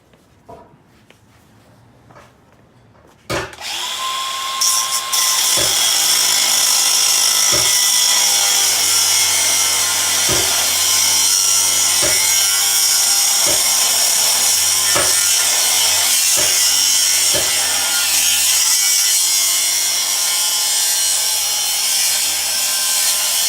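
An angle grinder cuts and grinds into the steel bumper of a Jeep CJ-5. The grinding is loud and continuous from about three seconds on, with a steady high whine and periodic sharp scraping pulses, and no talk.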